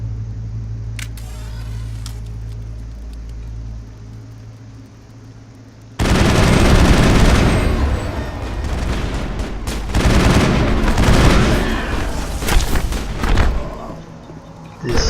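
Sustained gunfire and explosive combat noise from the sci-fi shooter Mass Effect fill the second half, loud and dense, starting abruptly after a quieter ambient stretch with a low hum.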